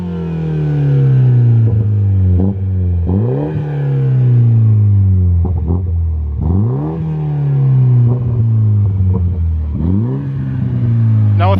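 MINI JCW DT Edition with a custom Deutchtech OPF-back exhaust, revved repeatedly in loud rising and falling sweeps, with pops and crackles on each lift-off, close and alone without talk.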